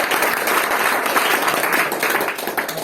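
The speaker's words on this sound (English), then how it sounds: "let us all give Richard a big round of applause for being a bad boy." Applause from an audience at a Toastmasters club meeting in Brunei, a dense steady wash of many hands clapping close by, continuous throughout and tapering slightly at the end.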